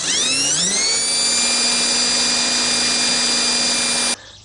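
A power drill with an extractor bit spins up and then runs steadily at high pitch, grinding on an old, hardened broken bolt in a mower deck spindle, loud and continuous for about four seconds before stopping abruptly.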